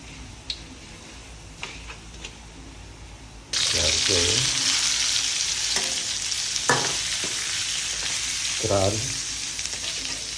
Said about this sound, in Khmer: ឆាសណ្តែក